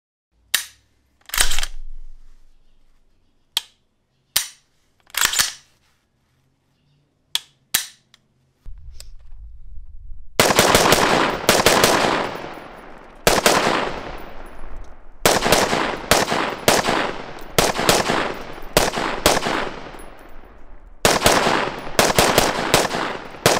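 A rifle with an upgraded trigger and a muzzle brake firing outdoors: a few spaced single cracks, then fast strings of loud, close shots with short pauses between bursts.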